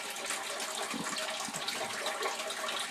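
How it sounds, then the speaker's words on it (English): A large volume of water rushes from breakers in a loud, steady, unbroken gush, close and dense throughout, with no voices. "But I just can't believe that much water."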